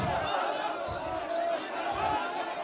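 A large crowd of Hindus clashing with police at the Dasna Devi temple in Uttar Pradesh during a lathi charge: a loud, steady roar of shouting voices that fills the whole stretch without a break.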